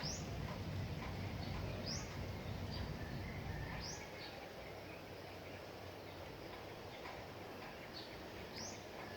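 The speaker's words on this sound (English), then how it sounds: "Birds chirping in the trees." Short, high bird chirps repeat every couple of seconds, faint and somewhat distant, in trees over the steady rushing of nearby water that softens midway.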